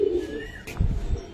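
A silver Giribaz pigeon gives a soft, low coo up close, followed by brief shuffling and thumping noises as the bird is handled.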